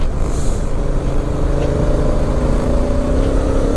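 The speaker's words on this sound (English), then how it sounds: "Whoa, it changes down on its own." Loud, continuous engine drone from a Honda motorcycle with a DCT gearbox, heard while riding and with the pitch shifting slightly as it changes down a gear on its own, alongside rushing wind and no voices.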